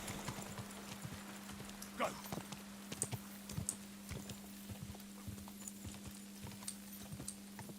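Horse hooves clip-clop at a steady walking pace in the Kingdom Come: Deliverance II video game, close and distinct hits spaced through the stretch over a low steady hum, with no talk.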